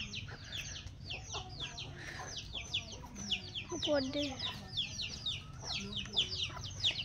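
Chickens in a home poultry pen cluck and chirp almost nonstop at close range, with a voice talking faintly in the background.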